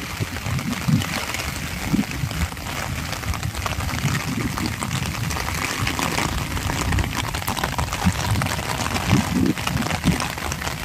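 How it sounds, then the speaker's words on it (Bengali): Rain falls steadily outdoors during an afternoon walk near trees, a continuous broadband hiss with scattered low thuds and patters running unbroken through the whole stretch. "এটা কিন্তু বৃষ্টি পড়ছে।"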